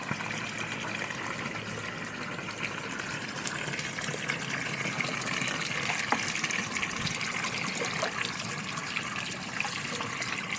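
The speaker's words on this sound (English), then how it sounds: "I did soak my feet in the foot bath hot spring nearby." Hot spring water trickles steadily into an outdoor foot bath along the Shimanami Kaido in Japan, a continuous close splashing and gurgling with no break and no voices.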